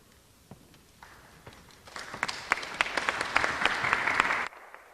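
Audience applause breaks out at a chamber of commerce candidate forum for the moderator, starting as scattered claps and building into a dense, steady round before stopping abruptly.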